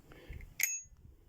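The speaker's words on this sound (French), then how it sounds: "La petite sonnette." A small bell on an electric mountain bike gives a single bright ding that rings out briefly. Faint low handling noise sits before and after it.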